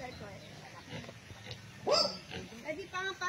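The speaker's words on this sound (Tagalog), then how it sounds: "mga native na baboy" Native pigs grunt on a farm lot in Liliw, Laguna, several close snorting oinks breaking out around the middle and end while a person talks over them.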